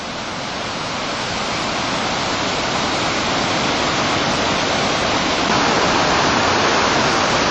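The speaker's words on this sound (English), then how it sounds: "their water is falling over large and small rocks and creating a lot of noise" Water crashes over large and small rocks in a loud, constant roar, a broad rushing wash that swells slightly toward the end, with no voices, in Scotland.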